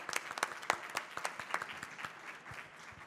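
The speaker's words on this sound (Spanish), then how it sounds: "Un aplauso, por favor." Scattered applause from an audience at a scientific conference panel in Argentina: fairly sparse, distinct hand claps that are loud at first, then thin out and fade over about three seconds.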